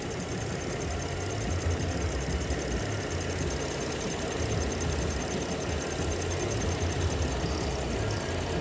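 A 2014 Dodge Durango with a 3.6-liter V6 idles steadily at moderate volume, a constant low rumble with faint rhythmic knocking and hiss and no other sounds.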